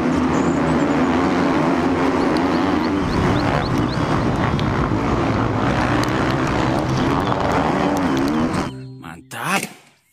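Motocross motorbike engine roaring loudly and steadily at close range for about eight seconds, a rough buzzing drone that cuts off abruptly, followed by a brief voice.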